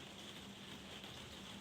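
Rain pours down outside a quiet room on a rainy day, a very faint, steady hiss with no other sounds.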